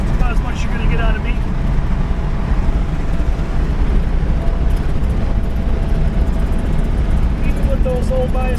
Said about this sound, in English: I'm going to get us up to at least 60 or 70 real quick, and then I'm going to drop her back down.